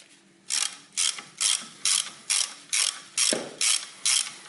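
Ratchet wrench loosening a bolt on a car's rear spring, nine evenly spaced bursts of crisp clicking, close and clear with short pauses between strokes.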